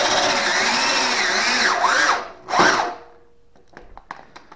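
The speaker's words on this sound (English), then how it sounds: "I'm just using a drill press to raise and lower it." A motor driving a DIY semi-scissor car lift up and down runs with a loud, steady whine that shifts pitch, surges once more and then stops, leaving a few small clicks and knocks.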